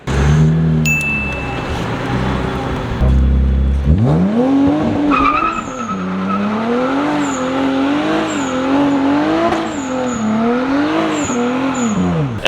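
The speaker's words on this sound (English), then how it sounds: "Yeah, rev that shit going up." A car engine revs up and falls back repeatedly in rising and falling sweeps, loud and close, with a short burst of higher whine near the start and a few faint voices in the background.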